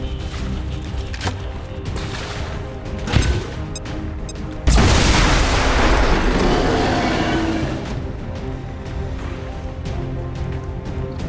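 A grenade goes off in the video game XCOM 2 near propane tanks, a sudden loud blast that rolls into a long, fading rumble amid scattered clicks and game noise.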